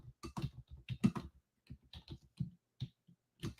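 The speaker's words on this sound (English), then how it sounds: "I'm typing it, right?" Quick bursts of typing on a computer keyboard, with irregular clusters of clicks and keystrokes separated by short pauses, heard up close with no talking.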